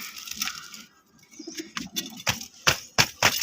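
Soft, low pigeon coos murmur near the start, followed by sharp clicks and scuffing sounds close by at a pigeon farm.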